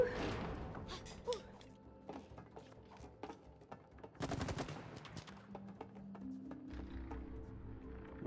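Video game gunfire, a scatter of sharp shots in uneven rhythm with a dense volley in the middle, fairly faint under game music and effects.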